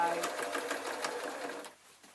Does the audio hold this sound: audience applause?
no